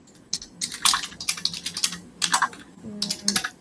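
Bursts of fast keyboard typing, clicking keys in quick irregular runs with short pauses between, close and fairly quiet.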